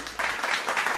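A seated audience at a rural development event claps together in a dense, steady burst of applause that rises and carries on for a moment.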